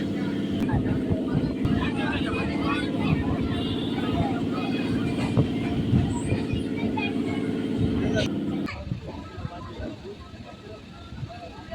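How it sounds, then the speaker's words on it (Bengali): Naihati–Ballygunge local train running through Princep Ghat station in Kolkata, a loud continuous rumble and droning motor hum, close by, cutting off abruptly near the end to a quieter background. "ট্রেন এখন বেরিয়ে যাচ্ছে প্রিন্সেপ ঘাট স্টেশন দিয়ে"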